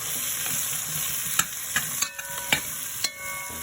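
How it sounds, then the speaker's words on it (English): Pot roast ingredients sautéing in a pot, a steady sizzle with several sharp scraping clacks of a utensil stirring and picking up bits from the bottom. "Just saute around a little bit"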